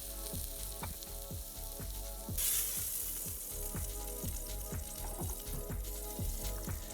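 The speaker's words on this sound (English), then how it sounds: "This is easily done in your Instant Pot with the saute function." Meat for birria tacos sears on the saute function of an Instant Pot, a steady close sizzle with regular spatula scrapes and stirring knocks throughout, growing brighter and louder partway through.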